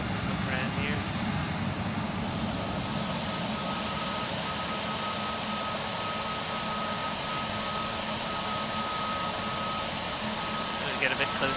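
Airbus A320-family airliner with CFM LEAP-1A jet engines running in a flight simulator game: a steady, loud broadband roar with a sustained whine, continuous throughout without talk.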